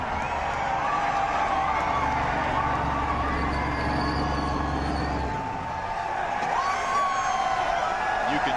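A large NASCAR race crowd at Talladega Superspeedway makes a steady roar and murmur, with a low rumble in the first half, while a commentator talks over it.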